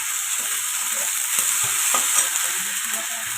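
Ginger paste and chopped tomatoes fry in a pan for butter chicken, giving a steady bright sizzle with faint stirring scrapes under it, close and continuous, with no voices.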